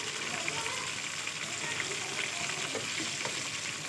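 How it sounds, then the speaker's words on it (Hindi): Chicken pieces fry in hot oil with a loud, steady, close sizzle and crackle that fills the whole stretch, with a few faint scrapes of turning. "बस जो है अब जो है हम रेडी कर लेते हैं अपनी चिकन को फ्राई करके"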